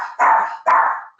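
A dog barks twice in quick succession, loud and close, with a brief pause between the barks and no talking, during a home video call for a planning commission meeting.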